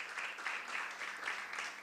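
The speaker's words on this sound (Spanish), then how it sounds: "Un aplauso para Gonzalo." Audience applause at a school dengue-prevention training session, a steady wash of clapping that stays moderately loud for the whole stretch, heard alone with no talk over it.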